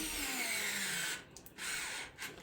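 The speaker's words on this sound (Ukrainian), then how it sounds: "Будемо закручувати саморізи в доску." Dnipro-M cordless screwdriver driving 15 mm screws into a wooden board, a close whirring motor whine that cuts out briefly and then resumes, heard alone and fairly quiet.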